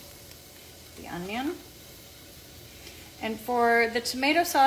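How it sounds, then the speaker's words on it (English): Chopped onion sizzles in hot extra virgin olive oil in a pan for meatball tomato sauce, a steady hiss running under a person's talk throughout. "Put about a 1/4 cup of extra virgin olive oil, and then I'm going to add the onion."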